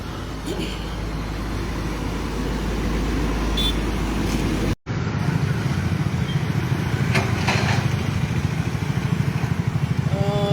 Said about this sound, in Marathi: हांगासर सध्या हेवी ट्रॅफिक आसा तुमकां पळोवपाक मेळटा